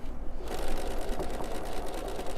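A sewing machine stitches through a quilt in a steady, rapid, mechanical whir that starts after a brief pause and runs on evenly at close range, with no talking.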